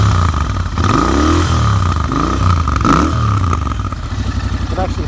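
A Royal Enfield Interceptor 650 fitted with aftermarket cans runs loud and close, its deep, throaty rumble swelling through several blips of the throttle before settling back to a steady, lumpy idle.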